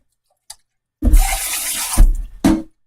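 Water pours steadily into a cooking dish holding beans for about a second, then a second shorter gush follows, preceded by a small clink; close and fairly loud with no talking.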